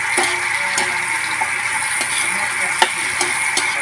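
Spices are sautéed in a hot pan while the cook prepares adobong batong, with a continuous close sizzle and repeated scraping stirs and light clinks of a utensil against the pan, no talking.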